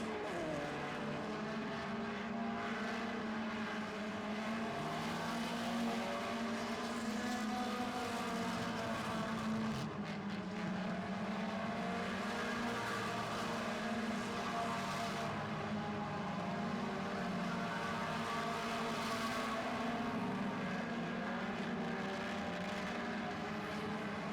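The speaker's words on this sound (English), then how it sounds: "Look at Perdonic inside of the 71 down the back straightaway." Race cars in a 4-cylinder feature race at a short oval track, engines droning steadily and loudly throughout with a continuous roar that shifts slightly in pitch as cars run the back straightaway.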